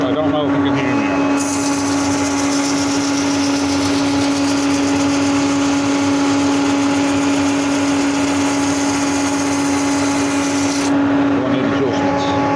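A sander runs with a SIP 01968 dust extractor, a steady loud motor whine with a strong tonal hum holding for most of the stretch, close and continuous with no talking.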